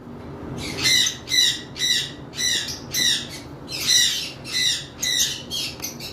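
A breeding pair of lovebirds of a parblue mutation, sitting on five eggs, lets out about nine harsh, high squawks in a steady rhythm, each a short burst, loud and close with no talk.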